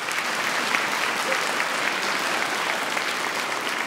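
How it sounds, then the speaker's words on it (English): An audience at a symphony orchestra's family concert applauds after a violin demonstration, giving dense, even clapping that holds steady throughout, with no voices on top. "Go ahead and applaud,"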